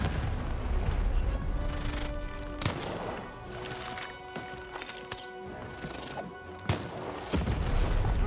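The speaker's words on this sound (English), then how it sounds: "Shoot the button to fire the cannon." Heavy booming cannon blasts in the video game Lost in Random go off a few times, sharp and loud, over a steady bed of game music and effects.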